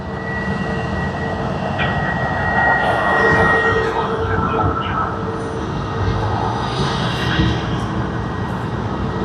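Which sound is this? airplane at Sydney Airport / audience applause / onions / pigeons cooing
airplane at Sydney Airport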